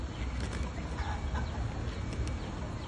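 Roosters at a cockfight cluck and crow amid a noisy outdoor crowd, faint and partly buried under a steady rumbling background.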